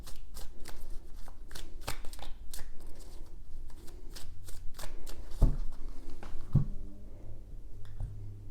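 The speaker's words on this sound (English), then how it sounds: "Three shuffles." Tarot cards being shuffled in three quick riffling bursts, crisp papery flutters repeating close up with soft thumps of the deck between passes and no voice.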